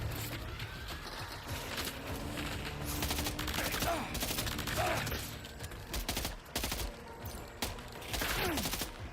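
Bursts of gunfire and clattering weapon mechanisms in Death Stranding 2, rapid volleys and scattered shots at moderate distance, uneven and intermittent over a quiet game background.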